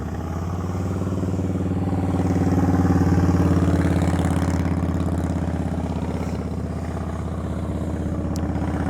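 A motorcycle engine idles steadily with a low, even throb and light mechanical clatter during slow-speed riding practice, swelling slightly midway and holding close and fairly loud throughout, no talk.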